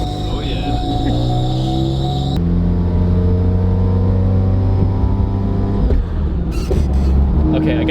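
A rotary-engine Corvette revs loud and close, its whine climbing in pitch, cutting off sharply, then building again into a sustained high rev with some crackle near the end.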